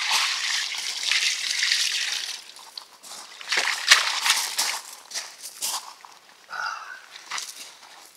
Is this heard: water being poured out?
yes